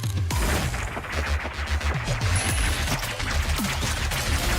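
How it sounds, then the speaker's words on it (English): Rapid bursts of gunfire from a 2D neon-lit shooter game, loud and continuous with dense rattling shots layered over thumping music, no talking. "There's a lot of shooting going on."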